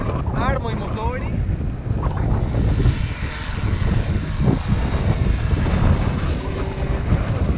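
DJI Inspire 2 drone with Zenmuse X5S camera, motors arming and spinning up outdoors: a steady broadband whir and hum, loud and continuous throughout, with wind noise and no speech.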